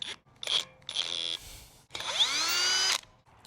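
A power drill drives stainless screws into wood on a houseboat exterior, giving several short whirring bursts and then one longer whine that rises in pitch, close and loud with brief pauses between them.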